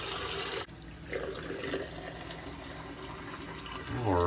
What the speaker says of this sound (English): let me get rinsed off, and we'll see you for the post shave